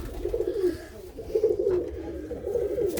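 Pigeons in a loft give repeated low, throaty cooing close by, rising and falling in soft rolling phrases over faint rustling.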